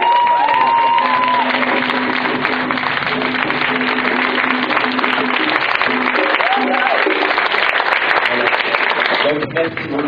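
A church worship audience applauds and cheers for families at a youth praise event, a dense steady wash of clapping and crowd noise with voices and shouts mixed in throughout.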